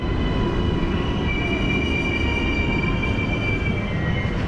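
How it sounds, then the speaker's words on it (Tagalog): A train rolls past at Puhinawe Station heading toward Britomart, a loud, close, continuous rumble with high squealing wheel tones running throughout, no voices. "Kaya may train na dumaan papuntang Britomart"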